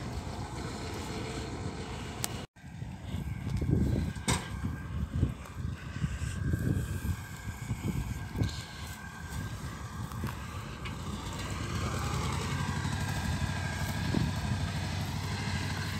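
A tractor engine runs steadily outdoors in a rural potato field while sacks of potatoes are loaded onto it, a continuous low rumble with wind noise and a few knocks and thumps from the loading.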